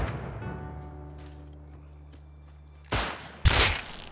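Two sharp, loud shots from a long range weapon in the survival game Rust ring out one after another near the end, following a low steady hum.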